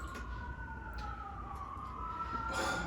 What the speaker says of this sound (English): The sirens are going off, bro.